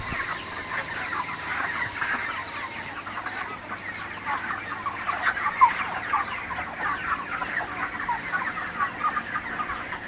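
Broiler chickens cluck and murmur continuously as a dense flock in a shed, a steady overlapping chatter at fairly close range.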